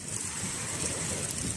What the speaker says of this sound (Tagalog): isa pang malakas na alon.